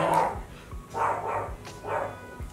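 A pet dog indoors barks repeatedly at another dog being walked outside, three or four sharp, fairly close barks in uneven bursts with brief pauses between them.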